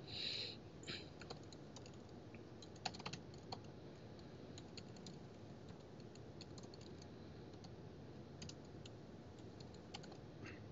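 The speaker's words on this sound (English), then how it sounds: "And I have to not talk while I type, or else the typing gets really hard." Typing on a computer keyboard during a coding demo, with quick, quiet key clicks in irregular bursts over a faint room hum and no voice.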